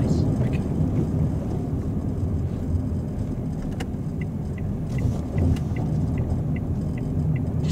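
A car making a left turn on a driving lesson, its engine and road rumble heard as a steady loud drone from inside the cabin, with a few faint ticking sounds over it.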